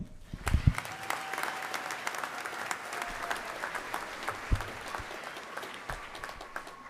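A graduation-ceremony audience gives a sustained round of applause, dense crackling claps filling the hall at moderate volume with a few sharper nearby claps standing out, no speech over it.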